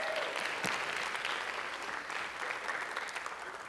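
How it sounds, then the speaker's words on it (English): A lecture audience gives a sustained round of applause, an even, crowded wash of clapping heard close and fairly loud for the whole stretch. "Give Casey a big round of applause"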